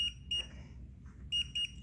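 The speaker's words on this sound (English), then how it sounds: "The laser level beeps when it is not aligned" A laser level on a makeshift ladder and scaffold setup emits sharp, high electronic beeps in short bursts, two early and two more near the end, fairly faint against a quiet room.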